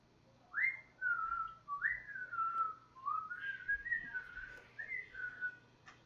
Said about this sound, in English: I'm bad at whistling.